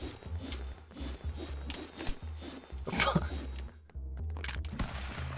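Gunshots in the video game Stick Fight, a fast series of sharp cracks fired one after another at a quick, uneven pace, fairly close and moderately loud.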